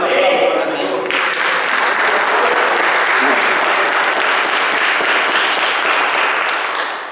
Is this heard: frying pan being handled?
no